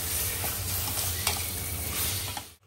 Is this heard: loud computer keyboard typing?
no